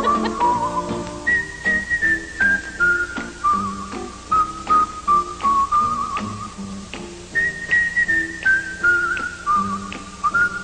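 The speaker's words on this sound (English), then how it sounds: "I think the whistling is from Andy Griffith" A bright, cheerful tune is whistled over light musical accompaniment in a TV commercial, the melody stepping up and down in a steady, relaxed rhythm.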